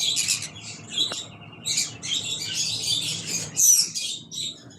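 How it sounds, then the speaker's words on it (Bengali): Canaries at a bird farm chirp and tweet in bright, overlapping bursts that run almost without pause, close and fairly loud, with a low background hum underneath. "এই এটা হলো ক্যাননের পাখিগুলো দেখেন।"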